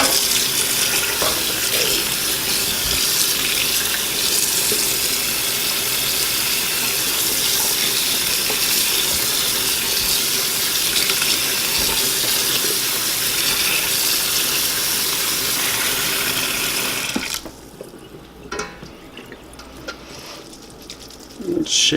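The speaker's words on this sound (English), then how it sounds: "a good idea to know you're done rinsing" A kitchen tap runs steadily into a sink while ground beef is rinsed, a loud, continuous close gush that cuts off abruptly near the end, leaving a few faint splashes and drips.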